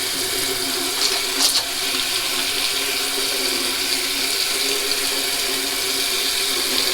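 Water runs steadily from a tap into a sink before a shave, a continuous loud splashing rush with a couple of faint clinks and no voices.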